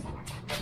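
A dog makes short whimpering, yipping vocal sounds at close range during a brief moment, with no talk over it.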